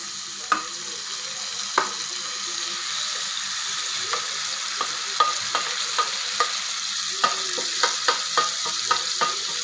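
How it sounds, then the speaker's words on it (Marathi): Cashews frying in ghee in a pan give a steady, close sizzle, broken by regular light clicks and scrapes as a spoon stirs them. "काजू छान परतवून घ्यायचे"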